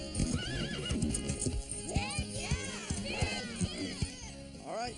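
Cartoon horse cantering up to and over a riding-lesson jump, with steady clip-clop hoofbeats, a couple of loud whinnies and a busy backing of voices and music throughout.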